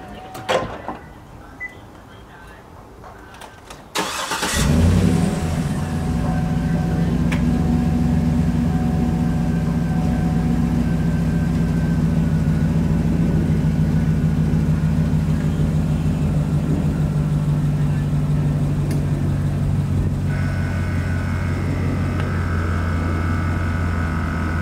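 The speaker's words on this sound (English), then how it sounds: "so let me turn the car on" A short-bed pickup truck with rear air suspension starts up after a few seconds of quiet clicks, then settles into a steady, close, low engine idle with a constant rumble and faint whine that runs to the end.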